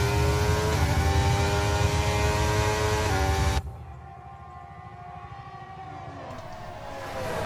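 Formula 1 cars at the Austrian Grand Prix on a drying track: a loud, high engine whine with shifting pitch, then a sudden drop to a fainter, distant drone that climbs again near the end.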